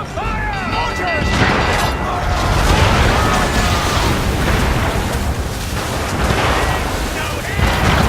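Heavy booming mortar fire rolls across a naval battle in Assassin's Creed III, dense rumbling blasts and crashes mixed with shouting crew voices throughout.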